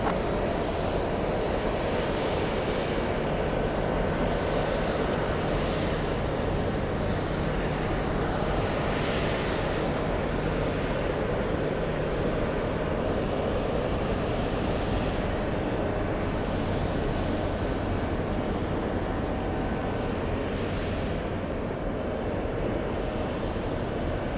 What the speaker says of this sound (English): There it is, the 777 in the distance.